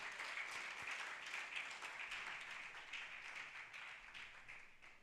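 Audience at a campaign launch event giving a round of applause for a welcomed speaker, fairly faint, steady clapping that slowly thins toward the end.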